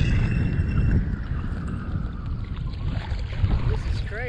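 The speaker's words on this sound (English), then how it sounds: "this wind is running about 13 miles an hour" Steady, heavy wind of about 13 miles an hour buffeting the microphone in a low rumble, with water sloshing around a small boat.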